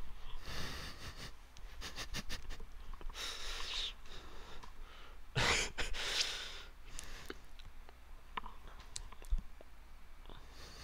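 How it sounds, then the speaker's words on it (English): A livestream host breathes and snorts close into the microphone, with irregular sharp nasal bursts and gasps scattered across the stretch and no speech. "Oh, you hating on my breathing?"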